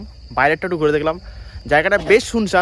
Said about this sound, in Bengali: ঝিঝির ডাক পাওয়া যাচ্ছে